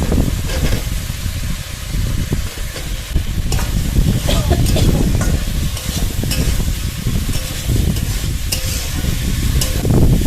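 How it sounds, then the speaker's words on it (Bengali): Fried potatoes tipped into a pan of sizzling spice masala and stirred for a vegetarian soybean curry, loud steady frying hiss with scraping, clattering stirring strokes throughout. "এবার এর মধ্যে ভেজে রাখা আলুগুলো দিয়ে দেবো।"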